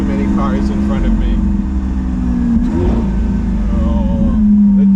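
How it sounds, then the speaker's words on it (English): Stock-exhaust Lamborghini Aventador accelerating downhill and downshifting, a loud, steady engine drone with rising and falling pitch through the gears, heard from inside the car with a voice talking over it. "Oh, the downshifts in this thing is insane."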